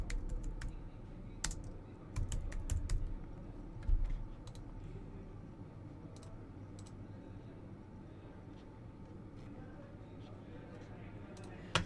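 Keys clatter on a computer keyboard as Python code is typed in PyCharm: quick clusters of sharp, close clicks, densest early on, then sparse taps over a low steady room hum.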